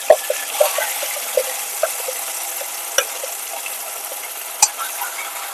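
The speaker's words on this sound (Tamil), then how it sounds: "இப்ப அரைச்சு வச்ச பேஸ்ட் சேர்த்துக்கிறேன்." Ground masala paste goes into a hot, oily pan, giving a sizzling, bubbling hiss with scattered sharp ticks and pops from spoon stirring, steady and close with no voices.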